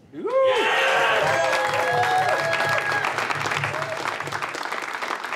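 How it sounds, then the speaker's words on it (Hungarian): Applause from an open mic comedy audience at a McDonald's Budapest Open Mic qualifying show, a dense burst of clapping that stays loud and steady throughout, with a few whoops and cheers rising above it. "Nagy tapsot a Brónak!"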